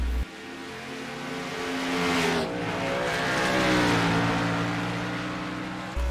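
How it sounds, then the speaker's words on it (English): A race car in a superspeedway racing video game accelerates back up to speed, its engine note climbing steadily in pitch as a loud, continuous whine with no voices over it. "he's getting that car back up to speed"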